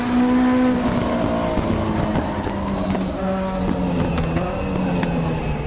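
Turbocharged Group 5 race car at Bathurst in the Raceroom game, its engine droning loud and close with rising and falling revs, shifting pitch through gear changes and a brief tyre squeal.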